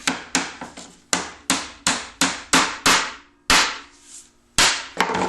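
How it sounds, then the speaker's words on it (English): A hammer drives a walnut wood inlay into place, about a dozen sharp, ringing knocks in an uneven rhythm, close and loud with short pauses between blows. "I'm just going to hammer this guy in there so it stays."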